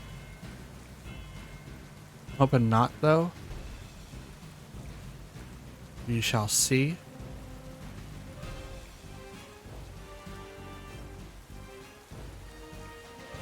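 In the video game Pokémon Scarlet, a Thunderclap move during a ranked battle sets off two loud, sweeping electronic thunder blasts over a soft, steady rain bed, with a voice talking quietly over the top.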